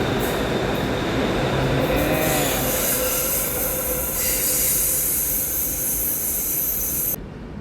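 An elevated electric train departing Bang Pho station in Bangkok, crossing the Chao Phraya River, rumbles loudly and continuously close by, with hissing and faint wheel squeals, the roar cutting off abruptly near the end.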